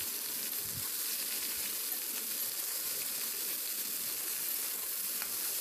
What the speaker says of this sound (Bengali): কষে নিচ্ছি, সব সবজি একসঙ্গে আমি দিয়ে নিয়েছি।